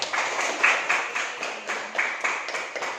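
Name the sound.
students applauding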